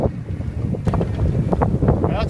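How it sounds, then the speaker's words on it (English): Wind buffeting the microphone aboard a sailboat on a broad reach, a close, rushing gusty roar with some water and boat noise beneath, no talking. "Wind just picked up nicely."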